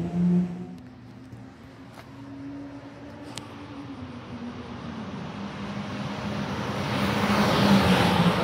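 A Nissan Skyline R33 GTR V-Spec passes beside an F1 circuit, its engine swelling from a distant hum to a louder, broadband roar toward the end.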